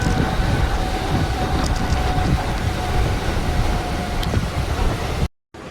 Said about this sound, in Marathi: ट्रेनमध्ये बसलो आणि हा रात्रीचा प्रवास.